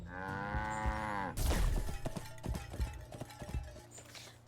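A cow in the video game Wytchwood gives a long, loud moo, then clattering, clopping footstep-like clicks and rustles follow.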